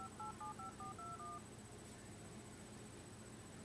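A telephone number is dialed by keypad: about eight quick touch-tone beeps in an even rhythm during the first second and a half, followed by a quiet steady hiss.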